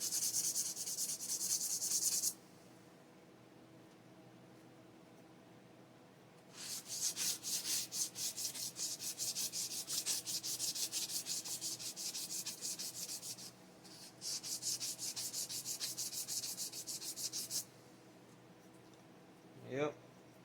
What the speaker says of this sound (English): you want to smooth out your piston as well